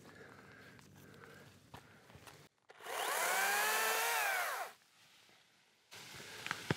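A cordless top handle chainsaw whines at high revs for about two seconds while cutting tree limbs beside a mobile home, rising and falling in pitch as it bites, with quieter rustling and footsteps before and after.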